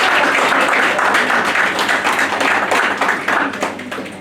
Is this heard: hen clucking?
no